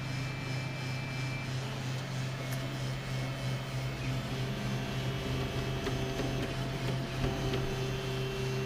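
A Folgertech FT-5 large format 3D printer runs with a steady, low mechanical hum and faint whirring, even and continuous, fairly quiet and close.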